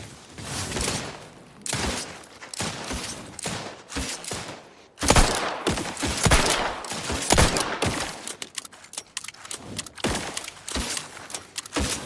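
Rapid bursts of gunfire from a weapon in The Outer Worlds 2, loud and close, with irregular volleys of shots spread across the whole stretch and brief pauses between them.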